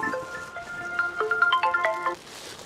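A melodic electronic phone ringtone plays a rising sequence of bright tones for about two seconds, moderately loud and close, then stops.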